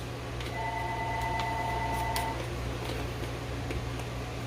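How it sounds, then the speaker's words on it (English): A mobile phone sounds in the background of a kitchen during Jamaican-style raw veggie salad making, thin electronic tones lasting a couple of seconds over a steady hum, with a few faint clicks and no talking. "that's my phone in the background"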